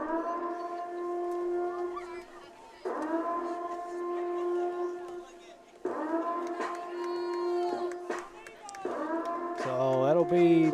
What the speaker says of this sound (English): Anytime you ever hear that that siren, that whatever, that's usually a 3rd down indicator